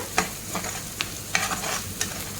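A spoon stirs masala frying in a pan for dried prawn curry, giving soft sizzling under a handful of distinct scraping strokes spread evenly.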